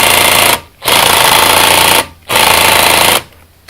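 A Drill Master cordless impact driver hammers loudly at a nut torqued to 50 foot-pounds, three close, harsh rattling bursts separated by short pauses, failing to loosen it.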